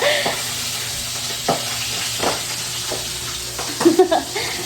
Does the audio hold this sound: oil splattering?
yes